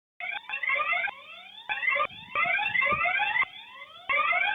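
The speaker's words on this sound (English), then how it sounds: "you'll see the alarm going off as well as the lights start to flash" A security camera's alarm goes off in repeated loud electronic siren bursts, rising sweeps and warbling tones broken by short gaps, close and alone with no voices.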